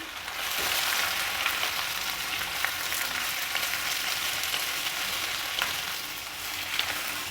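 Thick chunks of a medium tomato frying in a pan for brinjal chutney give a steady, close, hissing sizzle with occasional small pops, with no talk.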